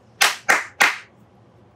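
Three sharp, separate hand claps, evenly spaced about a third of a second apart, close and loud in a quiet room during a kindergarten lesson, with no talking over them.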